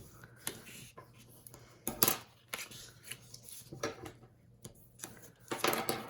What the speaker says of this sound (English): we can go ahead and just cut right below where those score lines intersect